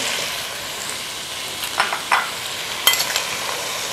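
Garlic, ginger and tomatoes frying in a pan for kadhi, a steady close sizzle with a few sharp scraping stirs of a spoon near the end, no voices.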